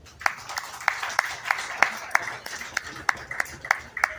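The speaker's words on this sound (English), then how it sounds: "Let's give him a round of applause." Spectators applaud a steer at a county fair 4-H and FFA beef show, sparse, evenly spaced sharp claps in a roomy arena, fairly faint, with a low background murmur.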